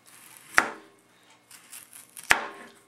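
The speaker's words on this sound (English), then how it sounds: "Now I'm going to slice this up, thinly slice it." Two sharp knife strokes thinly slice through a soft pear and tap the board, separated by a pause, with faint handling noise in between.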